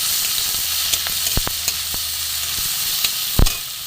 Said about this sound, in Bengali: রসুন পেঁয়াজ আদা কাঁচা লঙ্কা টমেটো পেঁয়াজ সাথে একটু ভালো করে ভেজে নেব